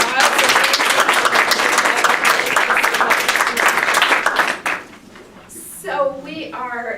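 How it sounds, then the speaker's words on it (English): A conference audience applauds in a steady, dense burst of clapping for about four and a half seconds, then it fades out and a voice begins speaking. "Great, round of applause."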